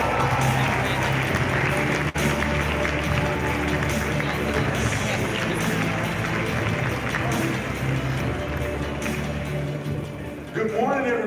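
Audience at a CPAC conference hall applauds as a Turning Point USA speaker is welcomed, a dense sustained wash of clapping that holds loud for most of the stretch before thinning at the end.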